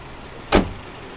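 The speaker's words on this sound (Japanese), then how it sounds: "ドアのね、閉まる音がかっこいいんですよ。" A car door is shut once on a newly purchased car, giving a single solid, close thump with a short metallic clack and no talk.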